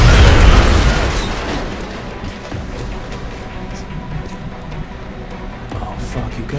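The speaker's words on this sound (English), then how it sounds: "I'm hoping maybe I can wipe out both these bros if I toss a little grenade into here" A grenade blows up in X-Com: Enemy Unknown, a loud booming burst at the start that fades into a long rumbling decay with low game noise continuing after.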